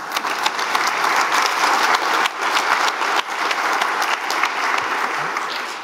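Audience applause at a prize winner announcement, steady dense clapping from a crowd filling the whole stretch, loud and close with no talk over it.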